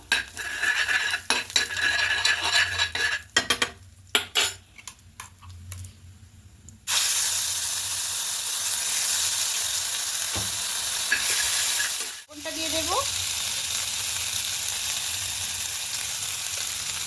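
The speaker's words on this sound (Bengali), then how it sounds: "তেলটা গরম হয়ে গেছে এবার এখানে কালো জিরে ফোড়নো দেব হিং দেব আর আদা কাঁচা লঙ্কা পেস্টটা দেবো আর একটু নেড়ে দেবো" Black cumin, asafoetida and ginger-green chili paste hit hot oil in a pan: scattered clinks and stirring first, then a loud, sustained frying sizzle with a brief scrape and renewed hiss, close by.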